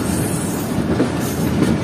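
Recorded from on board the Baba Fareed Express passenger train, a steady rumble of wheels running on rails fills the air, with a faint squeal and a continuous rattling roar.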